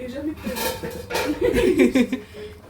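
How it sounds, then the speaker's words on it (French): A lid set onto a pan of simmering chicken escalope in cream and cognac sauce, a few close metallic clinks and clatters amid people talking and a short laugh. "Donc là, on va mettre un couvercle."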